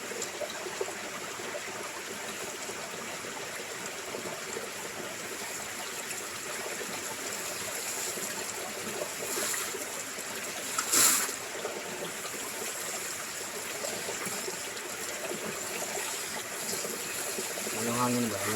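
Steady rushing water pours continuously into a fish pond, a broad hiss with a brief louder splash partway through, fairly close and without talk.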